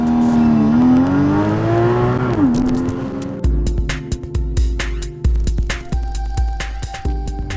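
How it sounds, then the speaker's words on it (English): A Porsche Cayman GTS launches hard under launch control, the engine rising loud and close at high revs before a series of quick upshifts, each marked by a sharp drop and a renewed climb in pitch. "launch control engaged, and we're off."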